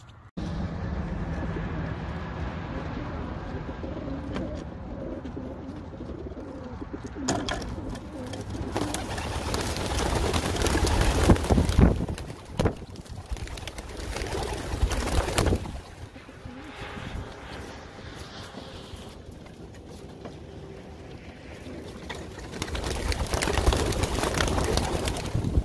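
Racing pigeons cooing at a loft, low intermittent coos amid steady outdoor background noise and occasional louder rushes of sound.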